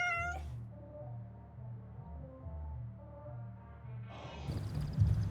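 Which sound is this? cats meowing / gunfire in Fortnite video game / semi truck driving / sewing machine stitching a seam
cats meowing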